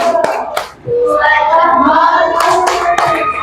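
Rhythmic group hand clapping for a classroom salute, a few crisp claps at intervals mixed with children chanting along over them.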